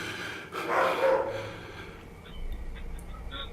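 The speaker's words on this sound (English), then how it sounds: "That dog don't help nothing." A dog barks in a short, loud burst near the start, then fades into a steady background hum during a ghost-hunting outing.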